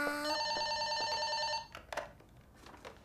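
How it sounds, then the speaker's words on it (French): A telephone rings indoors with a bright electronic warble, sounding for about a second and a half before cutting off into quiet room noises. "Maman, téléphone!"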